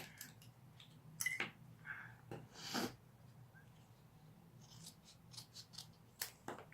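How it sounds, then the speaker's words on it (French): Scissors snip through paper in a few short crisp cuts, trimming a folded paper gift just short of the edge, close and quiet, with soft handling rustles between the snips. "on va couper un peu avant le bord"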